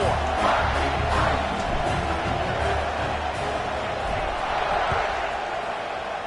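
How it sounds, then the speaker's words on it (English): A large college football stadium crowd at a Michigan State versus Texas A&M game keeps up a steady, loud roar and buzz, a dense wash of voices with no single speaker standing out. "this crowd is buzzing after that last score"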